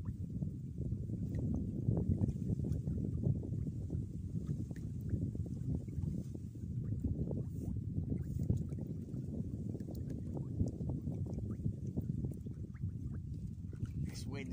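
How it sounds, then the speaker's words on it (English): Steady wind buffets the microphone outdoors beside the water while fishing for bream, a constant low rumbling roar that runs the whole way through with no break. "This wind's awkward."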